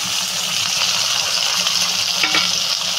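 Sliced bitter gourd (ucche) fries in hot oil in a home kitchen, a loud, steady sizzle with occasional stirring scrapes and no voices.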